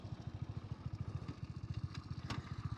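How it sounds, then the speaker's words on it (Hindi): A 27-year-old Hero Honda Splendor Plus motorcycle running on E20 ethanol, its single-cylinder engine putting out a rapid, even thumping idle heard close, with a few faint clicks over it. "अब आप लोग आवाज़ सुनो मेरी मोटरसाइकिल की।"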